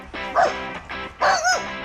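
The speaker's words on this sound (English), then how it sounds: "He'll bark at the air, he'll bark at anything that looks a bit suspicious" A dachshund gives two sharp, close barks with a yippy edge, loud and clear with a short pause between them.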